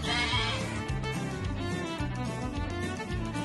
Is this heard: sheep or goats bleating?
yes